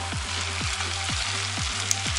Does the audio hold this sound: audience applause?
no